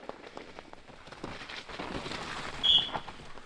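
Steady rain falls at a wet race track during a break before qualifying, a soft continuous patter on surfaces with scattered drop ticks and one brief brighter splash near the end, no voices.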